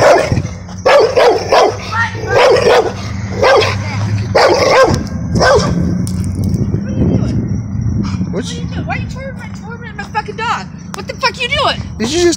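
A dog barks in short loud bursts during a heated street confrontation, mixed with shouting voices and a steady low hum of traffic in the background.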